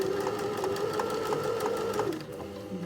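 A sewing machine stitches a curved hem in fabric held down without pins, running with a steady, close, continuous whirring hum and a regular needle tick before slowing near the end.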